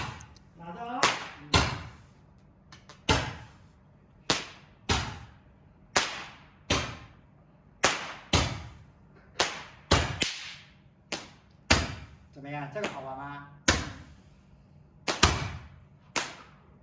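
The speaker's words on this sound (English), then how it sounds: "After dinner, Eddie set off fireworks, which are only allowed in rural areas." Fireworks set off at Chinese New Year in the countryside of Anji, Zhejiang: a long series of about fifteen sharp, loud cracks at roughly one-second intervals, each followed by a short decay, with a voice briefly heard between bangs.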